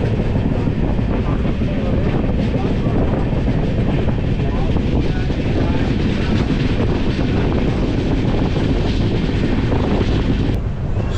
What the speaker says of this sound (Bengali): এই কাঞ্চনকন্যা এক্সপ্রেস এই আলুয়াবাড়ি রোড থেকে ক্রস হয় বা ক্রসিং হয়